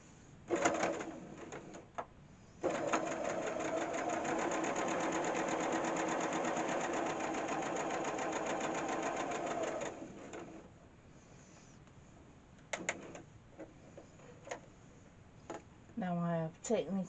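A sewing machine stitches pieces of a five-point quilt star, with one short burst and then a long steady run of fast rhythmic needle clatter before it stops, followed by a few clicks and a brief whirr.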